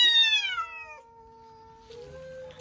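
Cats meow outdoors in a village, starting with a loud, close drawn-out cry that slides down in pitch and fades into a faint hum, followed by a quieter second meow near the end.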